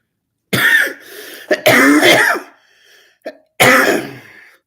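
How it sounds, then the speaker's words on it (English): A person clears their throat and coughs several times in quick bursts, close and fairly loud, with short pauses between. "There's the coughing."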